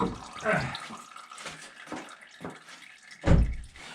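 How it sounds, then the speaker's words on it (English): Old engine oil drains from the oil pan of a 2013 Toyota Corolla with 409,000 km, a loose splashing, gurgling pour that rises and falls, with one louder splatter near the end. "you see the oil flushing all the way down there"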